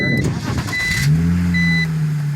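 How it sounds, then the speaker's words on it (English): A car engine cranks briefly and catches, settling into a steady idle, close and fairly loud; the car is fitted with a quick-release steering hub and removable wheel. "you can actually start the car"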